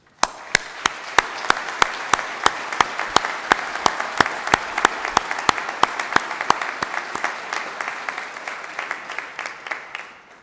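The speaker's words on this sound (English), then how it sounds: "why don't we give them a well-deserved round of applause?" Audience applause at a university graduation ceremony, sustained clapping from a crowd for about ten seconds with sharp individual claps standing out in the steady wash, tapering off at the end.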